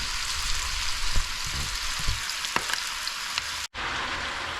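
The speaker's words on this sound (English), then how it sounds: "we've been sauteing for a good 10 minutes here" Pork curry with curry powder sizzling steadily in a hot pan, a dense crackling fry with a few louder pops and spatters, close and continuous with no talking.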